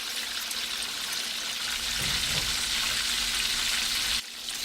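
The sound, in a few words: frying calamari and whiting fish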